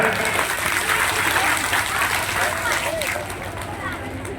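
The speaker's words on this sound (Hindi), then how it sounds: "तो मैं चाहूंगा ऐसे संत के लिए एक बार जोरदार ताली हो जाए।" An audience claps loudly for a saint at a Hindu religious discourse, a thick, steady roar of applause filling the whole stretch and tapering slightly toward the end.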